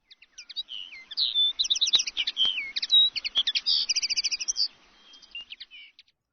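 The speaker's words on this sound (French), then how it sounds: "Partout dans les branches, des chants d'oiseaux à foison" Birds sing in the branches of a blossoming apple orchard near a stilled windmill in spring, a dense stream of bright chirps, trills and whistles layered close together for several seconds before tapering off.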